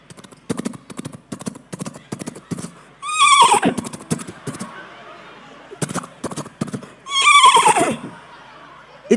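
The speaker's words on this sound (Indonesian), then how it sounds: "Masa suara kuda?" A horse whinnies loudly twice, long shrill descending neighs, between rapid clip-clop hoofbeats and scattered knocks, close and clear.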